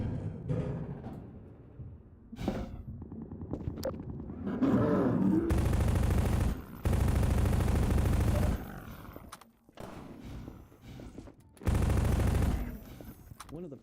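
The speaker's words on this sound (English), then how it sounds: "It also gives the player a chance to watch zombies get sniped up close and from various angles" Rifle fire cuts down zombies in Half-Life 2 Episode 1, loud sustained blasts in several long bursts with short gaps between them, mixed with growls and occasional voices.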